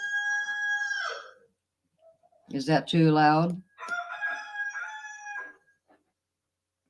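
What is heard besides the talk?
roosters crowing, played from a tablet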